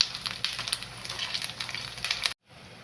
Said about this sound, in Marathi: आता तडतड व्हायचा आवाज पण कमी झालेला आहे